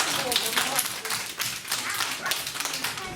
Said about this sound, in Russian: Ай да, молодцы, похлопаем.